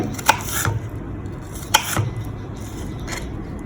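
A knife chops through firm jicama on a board, cutting it into strips, with a few crisp cuts spaced a second or so apart over a low background hum.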